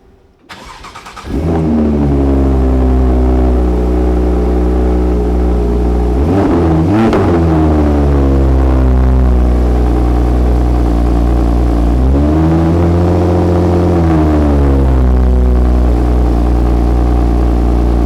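A Porsche 911 Turbo S engine cranks and fires up, then settles into a loud, close, steady rumble with two rising revs as it pulls away, no talk.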